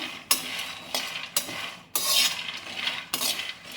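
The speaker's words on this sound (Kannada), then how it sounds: "ಅದೇ ಥರ ಕಡಲೆಕಾಯಿ ಬೀಜನೂ ಫ್ರೈ ಮಾಡ್ಕೊಬೇಕು" Peanuts frying in a pan are stirred with a utensil, giving repeated scraping, rattling strokes roughly every half second, close and clear with no talking.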